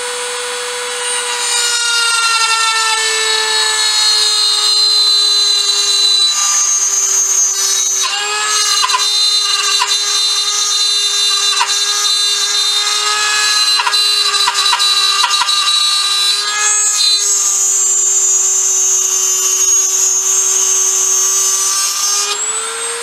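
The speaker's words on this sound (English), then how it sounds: "I'm gonna take the old Dremel." A Dremel rotary tool cuts continuously for over twenty seconds, making a loud, steady high-pitched whine that wavers slightly as it bites into the work on a homemade hydraulic relief tool.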